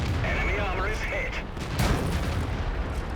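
Tank cannon fire and battle noise from a World of Tanks match, a dense rumbling wash with a sharper boom partway through, heard beneath game audio.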